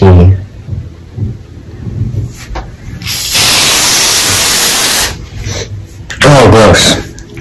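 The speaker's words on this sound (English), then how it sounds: "Let's spray it a little bit more just to see." A spray can of fart spray lets out two loud, hissing blasts, one long and one shorter, with voices talking before and between them.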